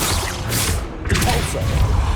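Confringo spell cast in Hogwarts Legacy, a loud rushing whoosh and crackling burst over dense game ambience, lasting the whole moment without talk.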